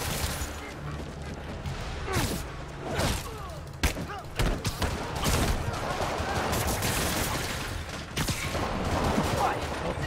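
Rockets launching and explosions going off repeatedly in the Marvel's Spider-Man video game: dense, loud bursts and thuds over a continuous roar of combat, with a voice talking intermittently underneath.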